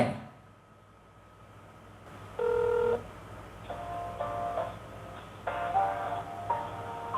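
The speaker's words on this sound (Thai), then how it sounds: "กดโทรออกที่ตัวสมาร์ทวอทได้" Dialing tones from an iMiKi TG1 smartwatch as a number is keyed in for a call, several short soft beeps of differing pitch over a faint background, no talking.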